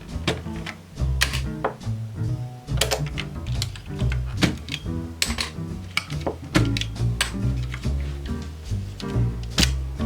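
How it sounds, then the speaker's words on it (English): Keycaps are pried one by one off an Alps computer keyboard from an early 1980s TRS-80 Model III computer, a steady stream of close, sharp plastic clicks and clacks with small rattles between them. "we have to remove all the keys."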